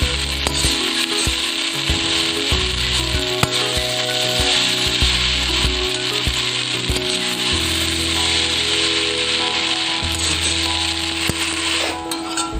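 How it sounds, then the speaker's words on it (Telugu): Hakka noodles tossed with masala and vegetables in a hot pan, a steady sizzling hiss with scraping, clattering stirring strokes running throughout, close and continuous. "మన నూడిల్స్ కొంచెం డ్రై అయ్యేంత వరకు ఫ్రై చేసుకుంటే చాలా బాగుంటుందండి"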